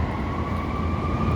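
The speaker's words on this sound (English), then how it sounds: "And then you hear emergency sirens." A wailing emergency siren from an ambulance or fire truck on a downtown Chicago street near the CTA Blue Line, holding a steady high tone over dense low city rumble from traffic and rail.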